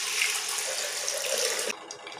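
Water streams steadily into a pot for pumpkin and pearl millet pongal, a close, splashing pour that cuts off abruptly near the end.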